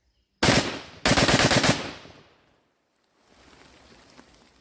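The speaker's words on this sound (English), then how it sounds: "we're going to bump fire" A Zastava M92 short-barreled rifle bump fired outdoors: two loud, close bursts of rapid automatic-sounding shots, the first brief and the second longer, then a fading echo and quiet ambience.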